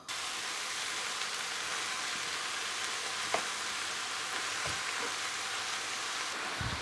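Finely chopped leeks frying in three spoonfuls of oil in a pan for a leek börek filling, a continuous even hiss of sizzling heard up close with faint occasional crackles and no voices.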